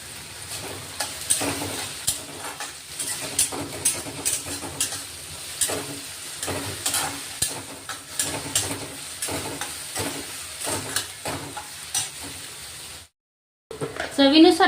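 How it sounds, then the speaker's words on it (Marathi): Chopped garlic and garlic paste fry in a pan, giving a steady close sizzle with repeated scraping stir strokes. The sizzle runs continuously, then cuts out briefly near the end before a louder burst returns. "थोडा कट केलेला लसूण टाकलाय, तोही आपण आता मस्त परतून घेतोय"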